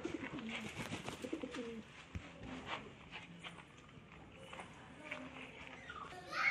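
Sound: pigeons cooing

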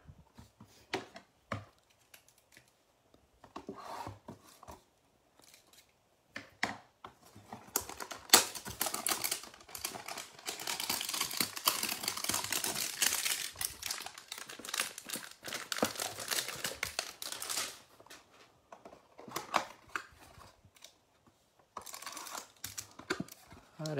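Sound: opening a hanger box of Diamond Kings baseball cards

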